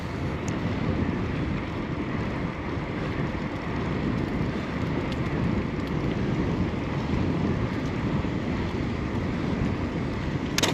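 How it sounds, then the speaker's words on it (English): Steady roaring headwind buffeting the microphone on a paved bicycle ride uphill, a continuous low rumbling rush that stays loud throughout without talk. "Got a headwind in the hill."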